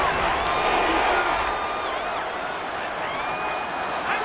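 Crowd noise from a football video game swells steadily through the stretch, a broad continuous cheering roar with rising whoops and whistles over a big play heading into a 3rd down, loud and sustained.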